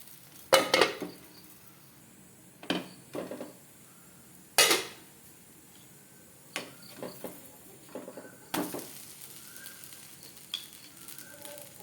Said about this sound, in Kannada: ಈಗ ದೋಸೆ ಕಾಯಿಸುವ